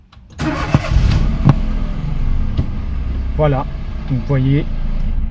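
A Citroën C1 / Peugeot 107 / Toyota Aygo engine cranks and catches, then settles into a steady close idle while someone talks over it.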